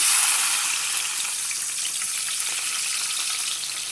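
Onion pieces fry in hot oil in a pan while making guta punugulu, a steady close sizzle that continues evenly throughout with no voices.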